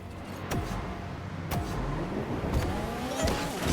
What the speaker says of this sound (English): Loud engines may damage hearing.